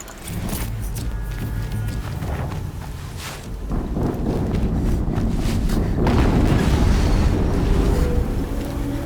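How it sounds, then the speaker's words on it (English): A loud explosion in Horizon Zero Dawn, a dense rumbling roar that swells partway through and stays heavy and booming to the end, with no voices. "Another explosion."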